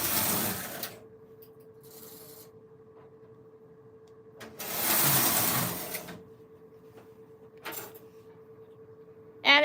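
A Silver Reed knitting machine runs with a steady mechanical hum under rhythmic whirring carriage passes, louder sweeping bursts recurring every few seconds, heard close with no talking.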